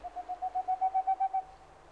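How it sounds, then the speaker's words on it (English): Tengmalm's owl giving its territorial call in a snowy northern pine forest: a quick series of about a dozen short, evenly spaced hollow hoots that swell in loudness and then fade, clear and alone against the quiet. "Only one sound disturbs the stillness, the territorial calls of a bird that only feels at home in northern forests such as these"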